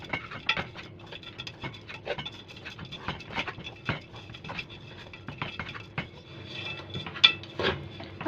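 Doum palm fruit and sugar caramelizing in a pot, stirred with repeated scraping and rubbing strokes against the pot, a steady close rhythm of soft clinks and scrapes with no talk.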